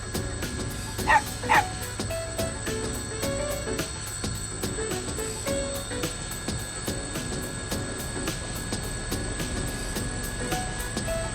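A dog character's bark in the fighting game Persona 4 Arena Ultimax, two short yips standing out over a constant bed of game music and ambience.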